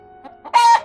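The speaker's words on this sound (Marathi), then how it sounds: "मग कोंबडी जाऊन बसली खुराड्यात." A hen gives a short, close cluck that rises into a brief nasal squawk, a single call lasting under a second, clear and loud against a quiet background.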